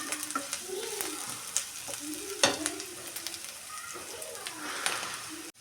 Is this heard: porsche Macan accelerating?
no